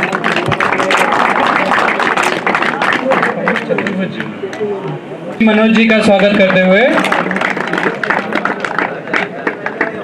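An audience at the Parshuram Premier League 2019 cricket ceremony in Jodhpur claps in scattered, crackling bursts. Someone speaks over a loudspeaker throughout, and a short burst of tonal music cuts in near the middle.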